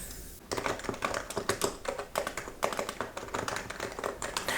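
Rapid, steady typing on a Happy Hacking Pro Hybrid Type S keyboard, with crisp clicks and taps in an irregular stream, close and fairly loud with no voices.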